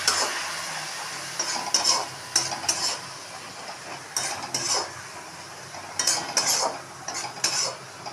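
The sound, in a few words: stirring and frying spice paste for egg curry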